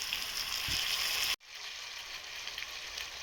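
Tomato pieces sizzle steadily in a hot pan of ginger paste for a tomato curry, a close, even frying hiss that breaks off briefly and then resumes slightly quieter.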